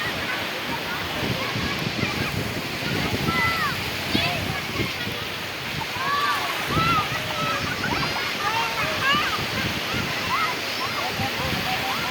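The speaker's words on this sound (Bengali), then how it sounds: "এই বড় ঢেউ আসতেছে এখন" Big ocean waves roar and wash continuously nearby, a broad surging rumble, while people talk and call out over the surf.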